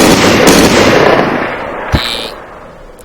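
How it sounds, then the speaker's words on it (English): An MG42 machine gun fires in a video game as a loud burst of rapid shots that trails off into a decaying echo, followed by a single sharp report near the end. "you just start shooting the gun"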